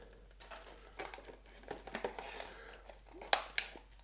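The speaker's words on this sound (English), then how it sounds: "Pull open the cardboard on the back." Cardboard backing of a Nintendo amiibo box for the Super Mario Bros. movie figures being pulled open by hand, giving soft scattered crinkles and scrapes and then a sharp tearing snap near the end.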